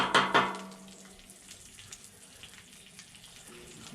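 Food sizzles on a Blackstone griddle: a sharp hiss flares loudly at the start, then settles into a quieter, crackling sizzle with faint clinks.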